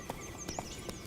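Roach the horse galloping in The Witcher 3: a quick run of rhythmic, evenly spaced hoof clops over a steady background bed, moderately close and with no one talking.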